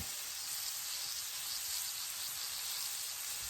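Shrimp for Cajun shrimp and grits sizzle in a hot pan with a steady, bright frying hiss that stays loud and even throughout, with no voices.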